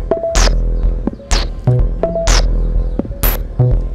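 Punchy synthetic drum pattern from an IK Multimedia UNO analog synthesizer, with deep booming kicks and sharp white-noise bursts, repeating in a steady electronic rhythm, loud and close.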